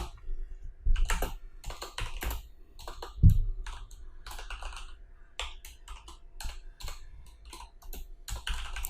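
Code is typed on a computer keyboard with irregular bursts of close, crisp key clicks, some short runs, one heavier thump, and quiet gaps between strokes. No one speaks.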